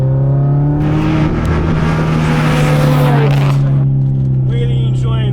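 A big-turbo Subaru Outback XT wagon running E85 and making about 450 wheel horsepower pulls hard on boost, its engine note droning and climbing steadily from inside the cabin, loud and sustained, with turbo whine and a brief lift near the end.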